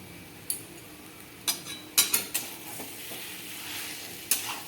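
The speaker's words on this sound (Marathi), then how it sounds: "आता आपण त्याला छानपैकी मिक्स करून घेणार आहोत" Boiled potato, coriander and chutney being mixed for bread vada, with a few sharp spoon knocks and scrapes against a bowl amid faint background sizzle, close and sparse, with no talking.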